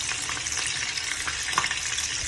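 Thawed frozen snacks frying in hot oil, a steady close crackling sizzle with a few brief stirring knocks, no voices.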